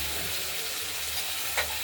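Tomatoes and potatoes stirred and fried together in a pan, giving a steady close sizzle with soft scraping and one brief clatter near the end.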